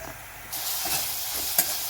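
Fish curry simmering and sizzling in a pan, a steady close bubbling hiss that swells after a moment, with one sharp clink near the end.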